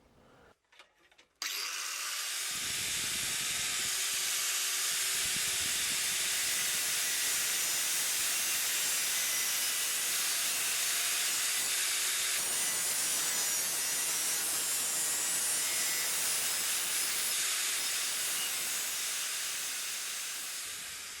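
An angle grinder cuts through aluminium sheet in a greenhouse, starting after a few short knocks. It then gives a loud, close, continuous high-pitched grinding hiss that holds steady for nearly twenty seconds.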